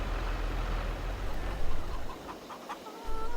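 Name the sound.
chickens clucking in Farming Simulator 22 video game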